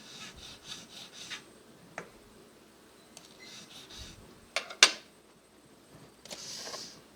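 A metal jeweler's file scrapes across a small workpiece in short rasping strokes, close and fairly quiet, with a couple of sharper knocks near the end.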